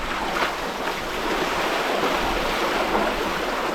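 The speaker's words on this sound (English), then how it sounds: "there's a couple waves behind that boat" Waves wash and surge steadily behind a boat on open water, a continuous broadband rush mixed with wind noise and no voices.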